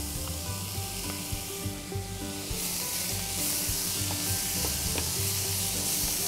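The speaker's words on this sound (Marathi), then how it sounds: "कांदा थोडासा परतून द्यायचा आहे" Onion sautés in a pan for a tomato saar curry, a steady close sizzle with stirring scrapes over a low background hum, growing slightly denser midway, with no speech.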